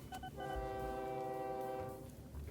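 A train in the video game OpenTTD gives a short horn toot and then a sustained horn blast over a steady rumble of rolling rail cars, with no talk.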